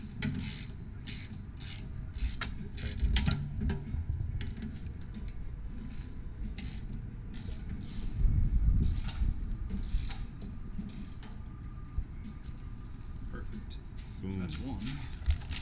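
Fasteners on race car parts get tightened with a faint, uneven run of small metallic ratcheting clicks and ticks under quiet ambient noise, with talk heard at times.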